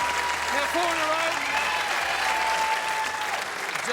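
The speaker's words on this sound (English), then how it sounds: "Justified applause." Studio audience applause on a televised Australian football talk show, a dense, steady wall of clapping that carries through the whole stretch, with some voices audible through it.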